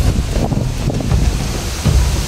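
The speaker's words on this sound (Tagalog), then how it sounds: "Uy, lumakas yung hangin." Strong wind gusting across a swaying suspension bridge, a steady loud rushing roar with low buffeting rumble against the microphone, swelling slightly at moments and continuous throughout.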